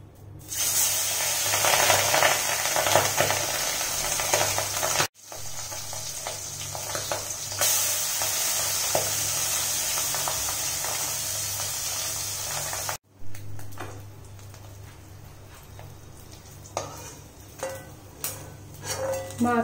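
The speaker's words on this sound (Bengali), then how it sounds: "পাবদা মাছ খুব ফাটে, আমার তো একটুখানি ভয়ই লাগছে দিতে" Pabda fish frying in hot oil in a wok gives a loud, hissing, spattering sizzle that breaks off abruptly at points and returns. Later it settles into a quieter crackle with sharp pops.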